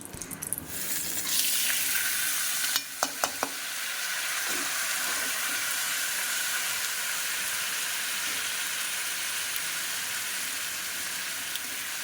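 Chicken for chicken kosha sizzles in a pan with a steady, fairly quiet frying hiss, joined by a few sharp knocks of stirring early on and then a long, even sizzle.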